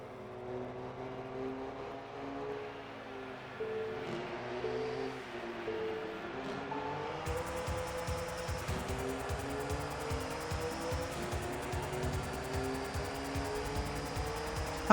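Race cars in JGTC on the PlayStation 1 make a rolling start: engine drones hum steadily, then a pack of cars roars in, loud and buzzing with rapid revving pulses, and no talking.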